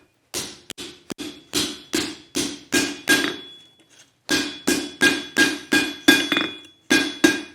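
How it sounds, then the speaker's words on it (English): Repeated hammer blows flatten an old steel mower blade on an anvil during forging, a steady series of sharp ringing strikes with a short pause midway, close and clear with no talking. "I'm going to start with this old mower blade. I'm going to start by flattening this off."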